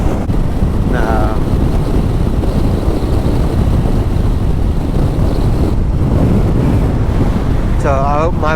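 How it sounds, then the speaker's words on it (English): Strong wind roars loud and constant across the mic of a rider on a motorcycle touring and camping in Spain, a broadband buffeting rush that never lets up, with brief muffled speech breaking through. "I don't know if you can hear how windy that is"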